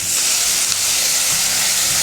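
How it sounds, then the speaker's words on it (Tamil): A pan of chili powder and water for an egg thokku bubbles and hisses steadily, a dense, even simmering sizzle heard up close with no voices. "இது வந்து நல்லா கொதிக்கட்டும்."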